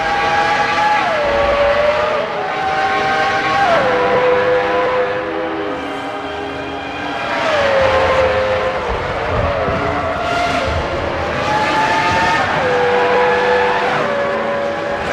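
A Formula One car in the Formula One 05 video game races out of the pit lane at the French Grand Prix, its engine whining loud and close, pitch climbing through repeated gear shifts with other cars droning around it.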